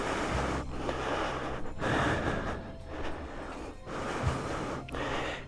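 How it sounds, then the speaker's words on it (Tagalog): Heavy, rhythmic panting from someone climbing a very steep path to a lakeside view deck, each loud, close breath coming in regular bursts against a windy outdoor background. "Medyo hinihingal na tayo mga kaipon kasi napakatarik dito."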